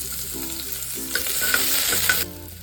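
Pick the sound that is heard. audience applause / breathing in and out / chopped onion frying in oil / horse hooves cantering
chopped onion frying in oil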